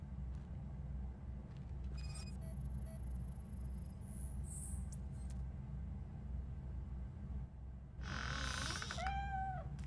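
A cat meows in a RoboCop scene, with a short call early and a louder, longer wail near the end over a steady low rumble.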